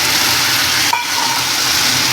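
Tomatoes added to sizzling dal tempering after the onions set off a loud, constant frying hiss close by. A brief dip in the sizzle comes as they hit the hot oil, and no one speaks.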